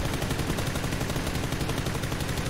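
Rapid automatic gunfire rattles without pause in PUBG, a dense stream of shots poured at an enemy tank, loud and close with no voices over it.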